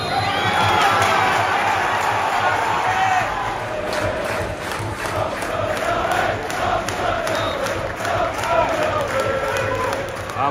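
Dense football crowd noise outside Scunthorpe United's ground at the turnstiles before kick-off against Barnet, a steady, loud roar of many voices with shouts and cheers rising throughout.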